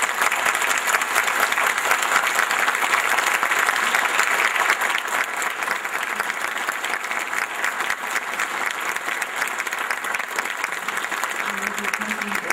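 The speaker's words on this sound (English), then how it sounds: "I think the mayor candidates deserve a round of applause" An audience at a mayoral forum gives the mayoral candidates a round of applause, with steady, dense clapping filling the room at an even level throughout and easing only slightly toward the end.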